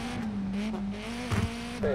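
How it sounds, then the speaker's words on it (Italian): A rally car engine in the WRC 5 video game drones with a steady, buzzing rev that rises and dips through gear changes, with brief bursts of tire and gravel noise, played close and continuous. "sentite anche il rumore della macchina"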